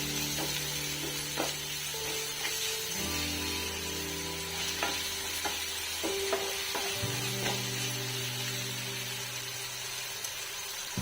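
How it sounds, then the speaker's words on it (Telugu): Salted tomato pieces for an egg curry fry in a pan, with a constant sizzle and occasional scraping stir strokes over a low steady hum. No one speaks. "ఇంకొంచెం ఫ్రై అయితే సరిపోతుంది."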